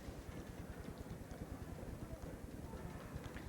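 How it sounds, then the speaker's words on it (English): A crowd stamps its feet in a football grandstand, making a dense, rumbling, continuous thudding that fills the space, with indistinct voices blended in. "So a bit of stamping going on in the grandstand, trying to get the noise level up to encourage this kicker."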